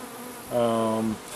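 A steady honey bee buzz swells in for about half a second, droning close and loud with a bright harmonic whine before cutting off.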